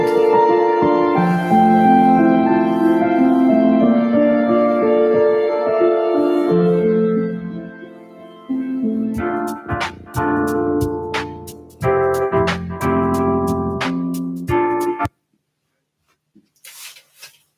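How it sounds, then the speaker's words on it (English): A WebAssembly synthesizer plays through a web browser's audio output, starting with sustained tones and then moving to short, sharply cut notes and chords that end abruptly into near silence. "we are creating buffer source nodes in this case, and just sending it to the web audio outputs"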